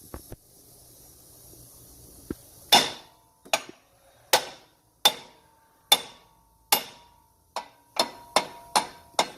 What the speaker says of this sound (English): Now we'll take a hammer and tap that